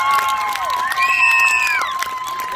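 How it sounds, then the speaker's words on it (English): Crowd at a children's fun run cheering and applauding loudly and continuously, with shouts and whistles over the steady roar. "let's give a huge round of applause and cheers for our participants"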